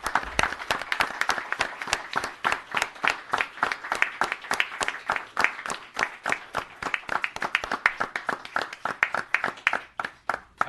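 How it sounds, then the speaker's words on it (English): An audience at a town board meeting gives a standing ovation, with loud, distinct claps in a brisk, uneven rhythm that keeps going steadily with no talk over it. "we should give them all a standing ovation and round of applause"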